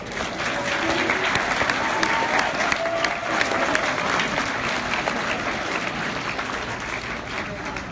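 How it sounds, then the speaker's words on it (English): Audience applause fills an opening-session hall at a 2016 conference, a steady, dense clatter of many hands clapping continuously at even loudness with no pauses. "Please hold your applause again, please."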